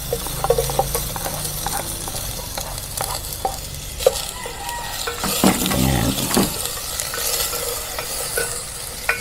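Ginger, garlic and onion sautéing together in a hot pan for a malunggay tinola with fresh fish, a loud close sizzle with repeated clinking stirs of a utensil against the pan throughout.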